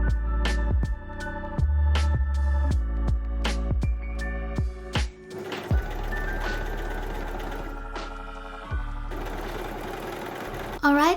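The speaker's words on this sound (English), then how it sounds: "then stitch them up at 1 cm seam allowance. Trim the corner, turn it right side out and press everything flat nicely, then overlock the side seams." An overlocker runs in quick bursts while stitching the side seams of a cowl neck dress, under plucky background music.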